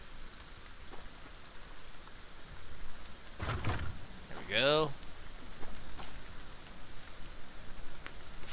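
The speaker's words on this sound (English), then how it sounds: "Now it's really going to rain." Rain falling in the survival game The Front, a steady soft hiss of drops throughout, with a brief rumble and a sweeping tonal effect in the middle and someone speaking a few words over it.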